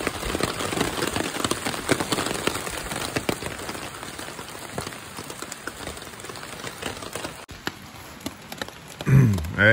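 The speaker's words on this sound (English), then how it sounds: "It's been raining steadily, although it's let up just a little bit." Steady rain falls at a canoe campsite in Maine in October, a dense continuous patter of drops on surfaces, close and fairly loud, with a brief louder rustle near the end.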